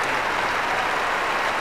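Crowd at Wimbledon applauding tennis player Jana Novotna, a steady wash of clapping from a large audience, even and sustained throughout with no pauses.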